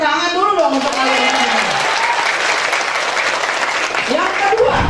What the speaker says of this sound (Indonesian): Tepuk tangan dulu dong untuk kalian.